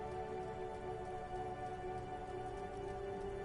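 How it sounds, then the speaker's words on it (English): Soft, steady rain dripping off Eternite-covered roofs along an urban coastline in Disco Elysium, a faint continuous patter beneath a low sustained ambient drone. "Urban coastline, rain dripping off Eternite-covered roofs."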